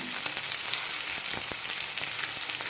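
Whole spices such as cardamom pods dropped into hot oil for hotel-style vegetable pulao, giving a steady close sizzle with scattered sharp crackles and pops throughout.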